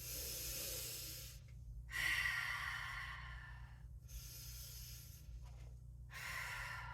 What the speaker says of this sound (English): Take a few deep breaths here.